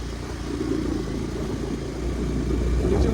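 A motorcycle ridden slowly in second gear as a climb begins, its mid-pitched engine droning steadily and close with a slight rise in loudness toward the end.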